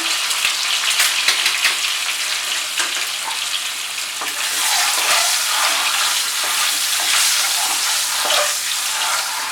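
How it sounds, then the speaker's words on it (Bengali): Eggs frying in mustard oil with a sprinkle of turmeric give a loud, dense, crackling sizzle that holds steady throughout, with a few soft stirring taps near the start and no speech. "ডিমগুলো উল্টে পাল্টে কিন্তু খুব ভালো করে চারিদিকটা ভেজে নিতে হবে"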